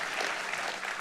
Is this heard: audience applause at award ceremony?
yes